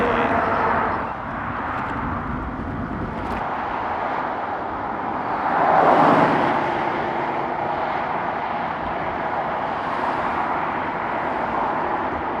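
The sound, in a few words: heavy road traffic noise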